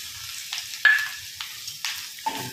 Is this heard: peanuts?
yes